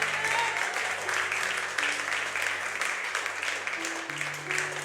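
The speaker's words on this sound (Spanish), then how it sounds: "denle un fuerte aplauso al Señor en esta tarde." A church congregation applauding during a Spanish-language sermon, sustained hearty clapping throughout with a low sustained tone underneath from an instrument or hum.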